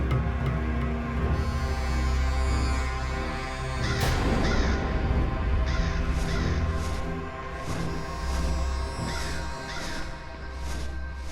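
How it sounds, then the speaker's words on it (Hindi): Crows caw repeatedly in a series of harsh, separated calls over a busy, tonal background. "खोदा पहाड़ और निकला कौआ"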